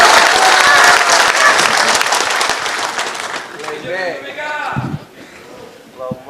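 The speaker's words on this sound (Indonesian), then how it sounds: "tepuk tangan saja kayak ragu-ragu" Applause from the audience at a political speech at a party national working meeting, dense clapping that tapers off over a few seconds as a voice starts speaking through the fading claps.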